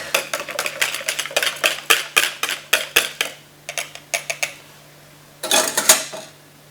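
A spoon clinks rapidly against a bowl while a green-tinted shower jelly mixture is stirred, with a steady stream of close scraping taps, a short pause and then a final burst of clatter, and no talking.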